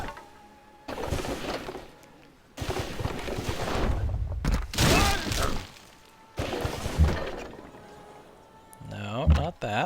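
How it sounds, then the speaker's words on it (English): Cannon fire and crashing impacts in the strategy game Civilization V come in several loud bursts separated by quieter gaps, with someone talking over parts of it. "let's go ahead and hit this cannon."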